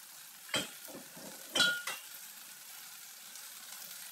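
Eggs and tomato stir-frying in a pan give a steady soft sizzle, broken by a few sharper scraping stirs, quiet and close.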